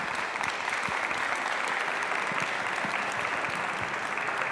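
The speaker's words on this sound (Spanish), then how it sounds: "les pido un fuerte aplauso para los dos" Steady, dense applause from an audience at a book presentation, continuous and even throughout with no talk.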